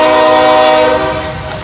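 A train passes close by, heard from a back door, with a loud sustained horn over the rumble of rail cars that eases slightly toward the end.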